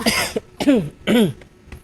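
Three hoarse, close coughs in quick succession, each a short rasping burst with brief pauses between.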